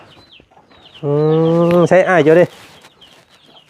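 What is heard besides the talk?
chickens clucking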